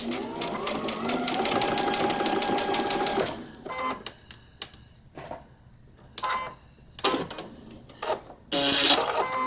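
A sewing machine stitches a paper-pieced quilt block along a drawn seam line in a steady rapid run of needle strokes, then stops and restarts in short bursts with quiet gaps, close and clear with no talk.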